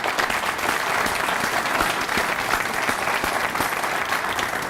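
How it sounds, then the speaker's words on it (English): A school audience applauds administrators at a principals' event, a dense, steady wash of many hands clapping at close range with no talk over it. "let's give all of these administrators today a round of applause"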